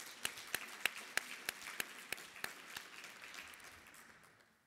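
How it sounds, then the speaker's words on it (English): Scattered applause from a small group of workshop participants thanking the speakers, with a few distinct, sharp claps in a loose rhythm that thin out and fade toward the end. "maybe a final round of applause for them"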